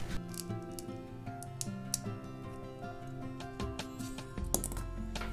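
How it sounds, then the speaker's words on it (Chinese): Small sharp clicks and scraping snaps as an iPhone X main camera module is pried out of its metal bracket, close and irregular, with no talking. "接下来将主摄从防滚支架里抠出来"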